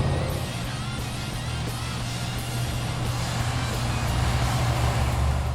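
A 1969 AMC SC/Rambler muscle car with a 4-barrel engine roars loudly and steadily while driving, a close, deep rumble throughout.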